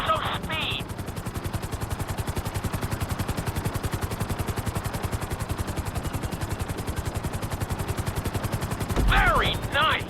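A helicopter flies in the video game GTA 5, its rotor throbbing in a fast, steady chop under a constant engine whine, loud and close for the whole stretch, with brief synthetic tonal blips at the start and end.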